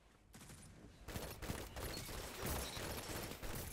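Rapid gunfire from a gun in a Bungie video game, dense overlapping shots in a sustained burst that grows louder after a quiet start, with no talking.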